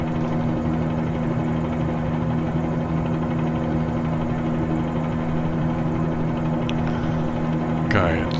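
Helicopter in Microsoft Flight Simulator, a steady droning rotor and turbine hum at constant loudness throughout, with a voice speaking briefly near the end.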